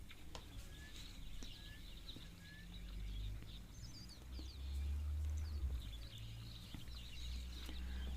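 Helmeted guineafowl calling at a bush waterhole: scattered, fairly distant chattering and chirping calls over a low, steady outdoor rumble.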